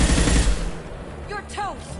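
Gunfire in the Mass Effect 2 video game, a burst of rapid shots loud up front and then easing into a busier battle mix with sharp whooshing and zipping effects.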